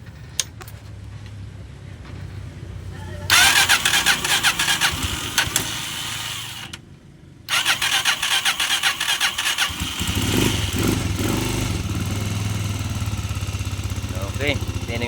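A Honda TMX 125 Alpha motorcycle, just fitted with a new timing gear, is cranked over and fires up. The engine catches with a loud burst, cuts out briefly, then restarts and settles into a steady, close idle.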